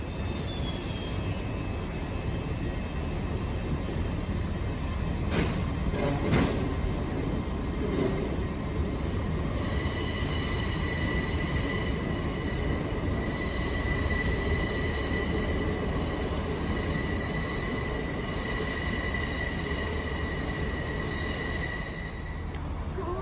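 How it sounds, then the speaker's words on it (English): An LNER train from London King's Cross to Aberdeen departs Newcastle station with a steady loud rumble of wheels and engine, and high metallic wheel squeal joining partway through as it pulls out. "out now is the 1658 LNER service from London King's Cross to Aberdeen"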